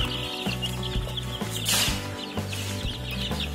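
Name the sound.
chickens clucking in a coop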